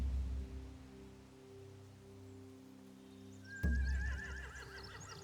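A horse whinnies loudly and abruptly in the video game The Walking Dead: The Telltale Definitive Series, after a stretch of low, steady droning background, its wavering neigh trailing off over a few seconds.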